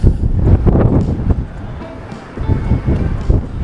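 Strong wind gusts buffet the microphone outdoors on a cold day, a loud low rumbling roar that swells and dips throughout, with faint voices under it.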